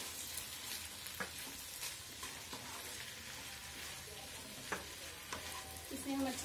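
Mixed vegetables with capsicum and mushrooms cook in a pan, giving a soft, steady sizzle broken by occasional stirring scrapes and taps. The sound is close but quiet and continuous, with no voices.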